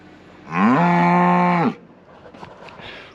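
A cow that had escaped moos once in a pasture, a loud, sustained, close call of about a second, followed by faint background noise.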